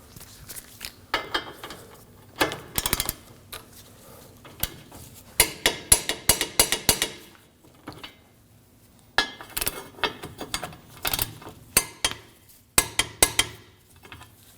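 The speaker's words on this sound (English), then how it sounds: "We'll torque our outer and inner control arm bolts to 74 foot-pounds." A torque wrench tightens the outer and inner control arm bolts on a 2016-2022 Honda Pilot to 74 foot-pounds, giving bursts of rapid ratcheting clicks in several separate runs with short pauses, close up and with no talking.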